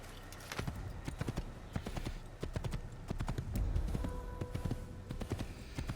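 Horse hooves clip-clopping at a steady riding pace in the Assassin's Creed video game, a rapid, even stream of close hoofbeats with a brief tonal game sound partway through.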